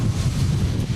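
Wind gusts buffet the microphone on the beach at Malpasso in Liguria, a steady low rumbling roar with no voices and no distinct events.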